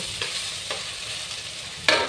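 Food sizzles in hot, burnt blackened oil in a wok reused from frying pointed gourd, with a steady broadband hiss and a few brief scraping stirs, the loudest near the end; no talking.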